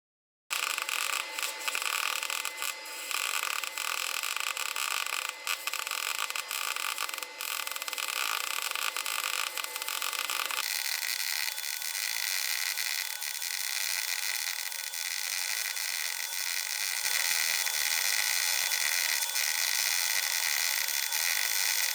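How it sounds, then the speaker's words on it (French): MIG welding with argon-CO2 shielding gas on a short-circuit setting, using 1 mm Aristorod 12.50 wire from a Fabricator welder: a steady harsh crackling buzz that runs continuously for over twenty seconds, shifting tone slightly partway through. "Nous avons un réglage pour faire un court-circuit et nous allons souder."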